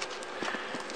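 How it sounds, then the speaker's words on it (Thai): A loosely packed Minolta 16 camera and flash meter shift inside a shipping box, giving several light, quick knocks and rattles that are close but faint over low background hiss. "ได้ยินไหมครับมันดิ้นอยู่ข้างในเนี่ยอันตราย"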